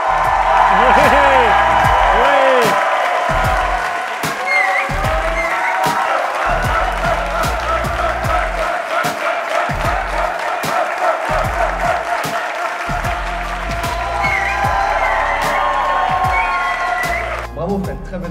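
An audience at a star competition held at the Musée Grévin wax museum applauds and cheers loudly and continuously for most of the stretch, with voices calling out and talk mixed in.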